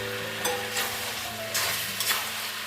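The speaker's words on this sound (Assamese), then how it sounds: "মই এতিয়া ভাজি লোৱা আলু দুটা ইয়াতে দি দিছোঁ।" Fried potatoes tossed into chicken curry cooking in oil, a steady loud sizzle broken by several scraping stir strokes of a spatula against the pan.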